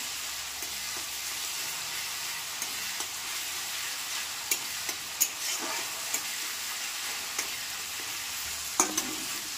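Chicken is stirred as it fries in mustard oil, with a soft continuous sizzle and occasional light scrapes and clicks of the spoon against the pan.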